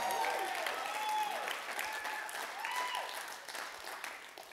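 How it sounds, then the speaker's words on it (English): An audience at a church service claps loudly and cheers, with a sung or shouted melodic voice riding over the dense, steady applause that gradually tapers off. "Somebody clap your hands and shout like he is God"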